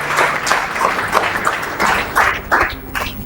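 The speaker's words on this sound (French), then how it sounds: "Je voudrais que vous puissiez les applaudir." An audience at a provincial governor's speech applauds: clapping that comes in uneven bursts over a few seconds in a reverberant space.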